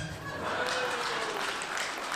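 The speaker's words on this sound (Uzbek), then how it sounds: "Qarsak bo'laversin." A crowd claps continuously at a live performance of recited verse, a dense and even wash of applause lasting the whole moment.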